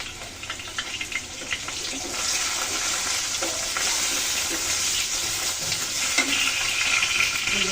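Potatoes frying in a pan for a cabbage fry, a steady broadband sizzle that grows a little louder partway through, close and continuous with no voices.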